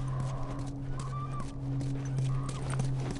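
Steady hoofbeats of a horse in The Last of Us video game clip-clop at a walking pace over a constant low hum, with a brief whinny-like sound in the background.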